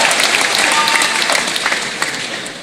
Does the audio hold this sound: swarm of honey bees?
no